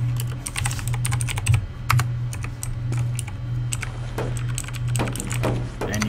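Someone types a console command on a computer keyboard for CS:GO. The close, crisp key clicks come in quick bursts with brief pauses over a low hum.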